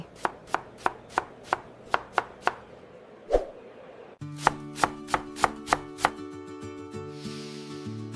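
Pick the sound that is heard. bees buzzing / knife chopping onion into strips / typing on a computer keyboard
knife chopping onion into strips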